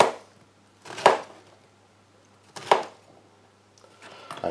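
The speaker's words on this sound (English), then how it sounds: "until you've chopped up all of the zucchini" A knife chops zucchini on a board in three distinct, sharp strokes, separated by short quiet gaps.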